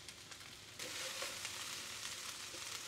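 Rice tipped into a pan of sizzling vegetables for cheesedog fried rice: a faint pan first, then a sudden, louder, steady frying sizzle and crackle with no voices.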